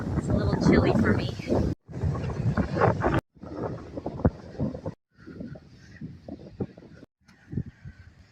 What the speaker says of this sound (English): it's windy going this direction